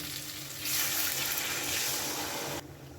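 Hot water is poured into a muri ghonto mixture of rice and fish head in a pan, giving a steady rushing splash that swells, holds for about two seconds and then stops abruptly.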